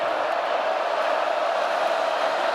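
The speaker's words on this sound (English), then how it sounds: "This crowd trying to help out." Steady roar of a packed college football stadium crowd, Idaho against Oregon, a dense continuous wash of noise with no distinct cheers or voices standing out.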